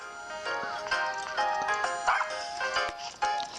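Golden Retriever and Toy Poodle puppies in Nintendogs + Cats yap and bark in quick, high, playful bursts during a sunset walk in town, with light game music behind them.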